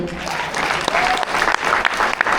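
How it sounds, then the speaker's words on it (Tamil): An audience applauds at a Tamil pattimandram debate event, with loud, close, continuous clapping and a few voices mixed in throughout the short burst. "சிறப்பாக பேசிய எல்லோருக்கும் மீண்டும் உங்கள் கரகோஷம்"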